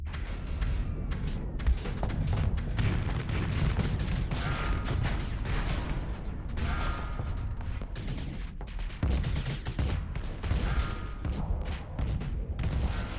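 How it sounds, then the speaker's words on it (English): Missile fire and explosions in the space combat game Starsector: a continuous rumble of launches, booms and thuds with rapid crackling impacts, loud and steady throughout. "Oh no, these missiles should do it, yeah."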